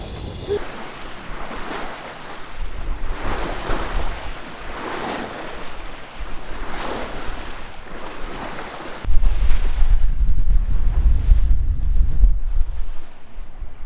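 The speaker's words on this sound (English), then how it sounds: "I know, we're actually sailing." A sailboat under way in open water, with waves washing against the hull and steady wind buffeting the microphone; the rush grows louder and more forceful partway through, with no one talking.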